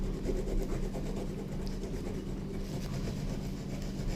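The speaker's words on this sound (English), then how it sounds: "I'm just going to grate the garlic using this hand grater" Garlic cloves rubbed across a hand grater, a steady close scraping rasp that runs continuously without pause and carries no speech.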